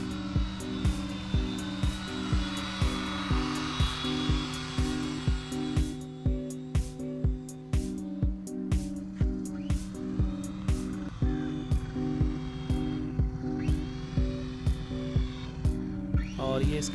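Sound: RC plane built from broken helicopter parts flying and landing

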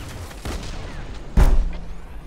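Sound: gunshots in the video game Fortnite

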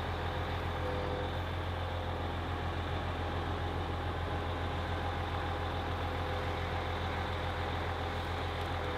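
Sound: gravel delivery truck engine idling

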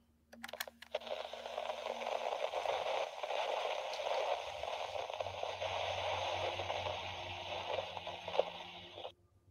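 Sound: spirit box white noise static cycling through radio frequencies

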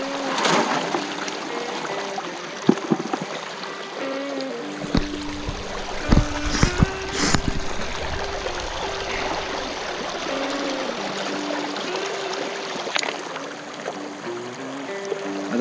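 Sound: water flowing into a pool skimmer

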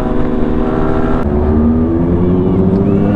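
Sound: Ducati Panigale V4 superbike engine

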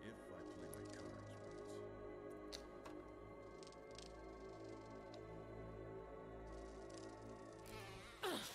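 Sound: giant bees buzzing near a beehive in the video game Resident Evil

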